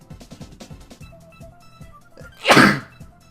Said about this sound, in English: Had to sneeze there real quick.